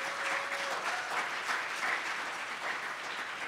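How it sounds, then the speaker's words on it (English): Steady audience applause at the closing session of an NNIP showcase meeting, a dense even wash of clapping at moderate level throughout. "So if we could give everyone a round of applause from my staff."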